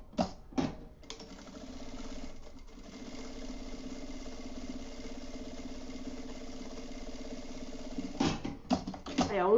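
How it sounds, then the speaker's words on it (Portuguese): Domestic sewing machine stitching the long side seam of a fabric kitchen panel, a low steady hum running through most of the clip with soft handling noises at start and end. "vou passar a costura na lateral mais comprida"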